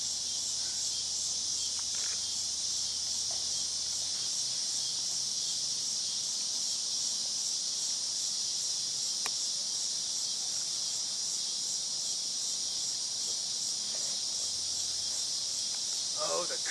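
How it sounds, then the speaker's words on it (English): Stage sound effect of crickets chirping at night during a live Shakespeare production of Cymbeline: a continuous high, shimmering trill held at an even level throughout, with faint soft stage noises underneath. "Oh, the crickets sing,"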